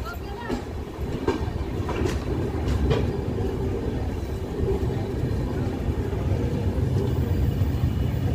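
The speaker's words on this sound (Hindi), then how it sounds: "12:55 पे ट्रेन यहाँ पे पहुँची है, जो कि थोड़ी सी लेट है" Ajmer Amritsar Express pulling into Jalandhar City railway station: a steady loud rumble of rolling wagons with rhythmic clicks, brief squeals and hissing over the top, and some voices audible under the train noise.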